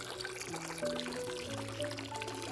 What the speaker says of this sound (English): I gently washed him with the hose.